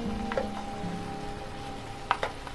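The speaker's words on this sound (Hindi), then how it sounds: "ये देखिए, हमने इसे थोड़ा सा भून लिया है।" Mutton frying in a pan for mutton rosh, a steady close sizzle with a few sharper crackles and clinks of stirring near the end, no talking.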